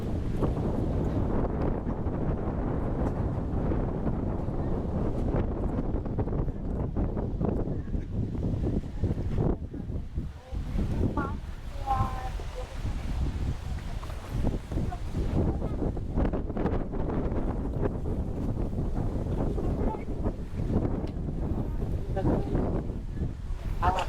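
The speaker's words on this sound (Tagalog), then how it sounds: "Sobrang lakas lang po ng hangin." Strong outdoor wind buffets the microphone at a private cemetery in loud, low rumbling gusts that last throughout, with a person speaking intermittently underneath.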